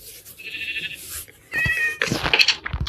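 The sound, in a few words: sheep bleating in a video game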